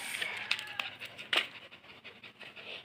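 A dog panting rapidly up close, quick breathy huffs with a few soft scratchy sounds mixed in.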